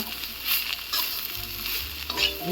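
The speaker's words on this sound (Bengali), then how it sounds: "দেখেন আমার কাঁঠালের ভাজিটা প্রায় হয়ে গেছে।" Young jackfruit fries in a pan on a stove, a continuous bright sizzle punctuated by a few louder stirring scrapes and spatters, with low rumbling handling sounds near the end and no talking.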